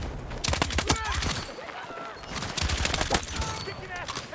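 An LMG on the support class fires in Battlefield 6, rapid automatic bursts with pauses between them, loud and close, with a voice speaking over the shooting.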